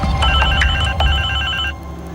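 A telephone bell rings in a home, loud, close and repeating in rapid trills, then cuts off near the end while the room stays busy in the background.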